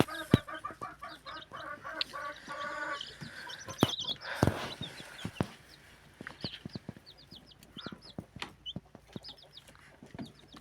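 A broody hen clucks repeatedly in quick rhythmic bursts close by, with sharp knocks and rustling scattered between the calls.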